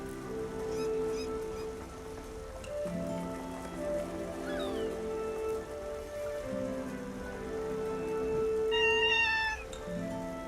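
A pet cat meows repeatedly, several drawn-out cries spread across the clip, close and fairly clear over soft game music with a faint rain-like patter.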